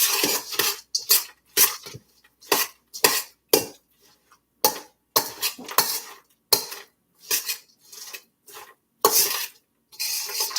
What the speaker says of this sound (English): I think I'll use a metal spoon because it'll take a little bit to get these to nice and mix.